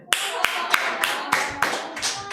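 Brief applause at a church youth worship service: a handful of sharp claps in a steady rhythm, with some voices underneath.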